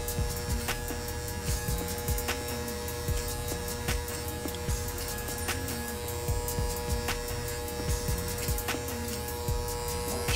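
Electric hair clippers fitted with a number 3 guard cut hair during a low skin fade, a steady close buzz broken by repeated short passes and taps.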